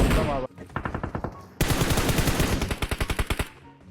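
Rapid automatic gunfire from the battle royale game PUBG, loud and close, in dense bursts of evenly spaced shots with a brief pause before a heavier, sustained volley that tapers off at the end.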